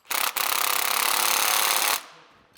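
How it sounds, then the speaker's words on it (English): An impact wrench tightens a bolt on a depth adjuster pivot of a John Deere 60 or 90 series disc drill, firing one loud, continuous rattling burst close by, briefly interrupted near its start, then cutting off abruptly. "then we'll tighten that down with a wrench and an impact"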